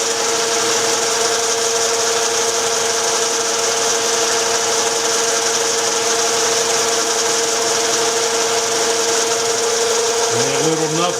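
A wood lathe spins at about 730 RPM while removing a tenon, giving a steady loud mechanical whine and hum throughout, with a brief rising tonal change near the end.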